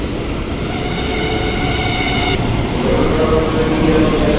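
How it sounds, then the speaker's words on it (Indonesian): A KRL CRRC commuter electric train rumbles loudly through Cakung station, a dense steady roar of wheels and motors close by with a faint high whine, growing slightly stronger toward the end. "Ini ada KRL tujuan Bekasi lagi."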